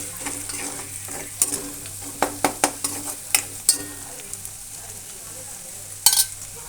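Finely chopped onions frying in a pan for a bhindi curry, a soft steady sizzle under a string of sharp metallic spoon taps and scrapes, close by, with no speech.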